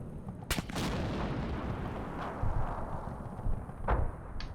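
Gunfire and artillery in the war game Combat Mission Shock Force 2 during a Syrian mechanized infantry attack: a couple of sharp, loud reports over a steady rumbling battlefield background, with a few more distant cracks following.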